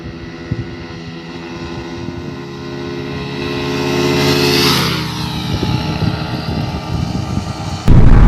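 A Yamaha MT15 and a Suzuki Gixxer race side by side, engines climbing in a rising whine that peaks as they pass close by, then fading with a sudden loud burst of noise at the end.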